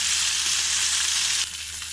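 Marinated fish deep frying in hot oil, a steady bright sizzle that holds loud and close for the whole stretch, dipping slightly near the end, with no voices.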